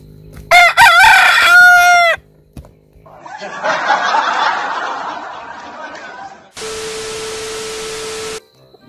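A rooster lets out one loud, close crow that lasts about a second and a half. A burst of broadband noise and a steady tone follow.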